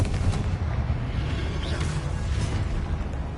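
Blasting spell Confringo detonates in the Hogwarts Legacy game, a dense, rumbling blast with heavy low boom that holds steady and loud throughout, no clear separate hits.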